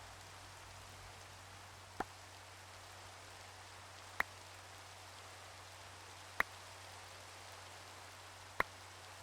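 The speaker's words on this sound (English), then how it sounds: "Oh, thanks, Cool Geek, making it rain again." Soft, even rain hisses in the video game Minecraft, quiet and constant, broken only by a few sharp clicks spaced a couple of seconds apart.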